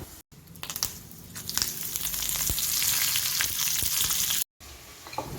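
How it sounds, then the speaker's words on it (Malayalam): Mustard seeds, dried red chillies and curry leaves crackle and sizzle in hot oil, a loud, steady frying hiss with sharp pops, briefly cut by two short gaps. "കടുക് പൊട്ടിക്കഴിയുമ്പോഴത്തേക്ക് കുറച്ച് വറ്റൽ മുളകും ഇട്ട് കറിവേപ്പിലയും കൂടി ഇടുമ്പോഴത്തേക്ക്"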